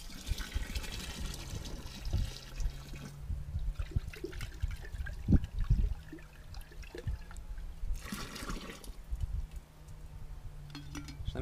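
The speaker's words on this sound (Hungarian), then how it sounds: "Akkor adjuk hozzá a cukoroldatot" Sugar solution is poured into a fruit mash for fermenting, giving a steady liquid gush and trickle, close and moderately loud, with splashy surges and a brief quieter stretch midway, and no voices.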